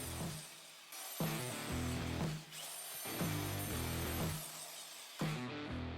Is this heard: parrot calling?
no